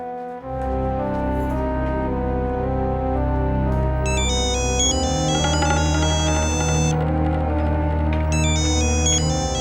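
A phone ringtone plays on and on with no one answering, a loud repeating electronic melody with bright high chiming bursts over a steady tonal backing.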